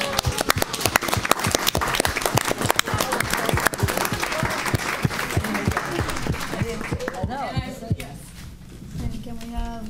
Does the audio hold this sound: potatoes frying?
no